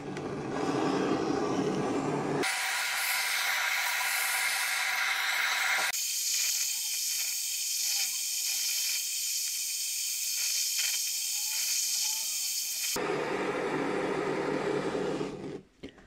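A torch or heat gun hisses steadily while warming the crankshaft bearing area of a Ciao scooter engine, a loud continuous rush that changes character in sections before cutting off near the end.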